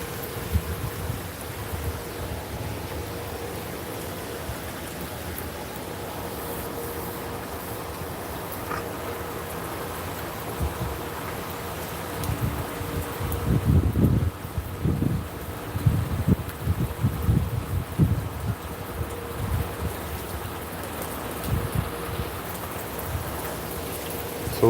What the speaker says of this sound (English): So we'll sit here and look at the rain.